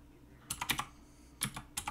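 Faint computer keyboard typing, a few quick key clicks in two small clusters close by.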